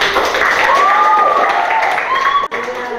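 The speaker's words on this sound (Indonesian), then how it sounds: "Tepuk tangan buat kami." Classroom applause from students in a lesson, a short burst of clapping mixed with children's voices and chatter, close and fairly loud.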